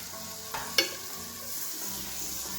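Butter heating in a pan on a stove just under medium heat gives a soft steady sizzle, with a couple of brief utensil taps early on and no talk.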